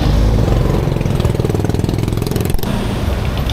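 A motorcycle engine idles loudly and close by, a steady rapid chugging throb that continues throughout without talk.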